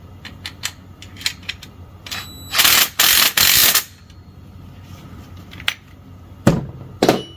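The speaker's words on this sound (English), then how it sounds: "go and get our 1/2-inch socket and wrench and just give it a little tighten" A 1/2-inch socket and wrench tighten a hose clamp on a wash stand with a pedal assembly. Light taps lead into three short, loud bursts of ratcheting close by, followed by a few sharp clicks.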